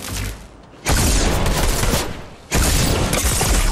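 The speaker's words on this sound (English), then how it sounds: "The explosion's not very big." Explosions and gunfire sound in the Fortnite video game, two loud sustained bursts of noise separated by a short quieter gap, with no talk over them.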